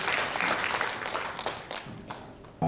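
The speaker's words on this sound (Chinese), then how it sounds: "我们热烈掌声欢迎我们的议长。" At a 2016 Lingjiu Mountain Puren Award ceremony in Tainan, an audience gives dense, sustained applause to welcome the Tainan city council speaker, loud and continuous before tapering slightly near the end.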